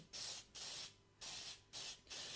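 An aerosol spray can lays a coat over the surface of a shield in four close, hissing bursts of about half a second each, separated by brief pauses, quiet and with no talking.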